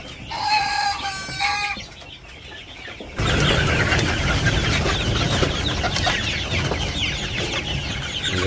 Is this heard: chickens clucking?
yes